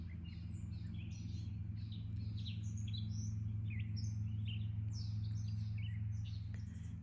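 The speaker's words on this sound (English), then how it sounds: "Maybe I'll be quiet a minute and see if you can hear the birds." Birds singing by a pond in the evening, many bright chirps and tweets overlapping continuously, moderately distant, over a low steady hum of background noise.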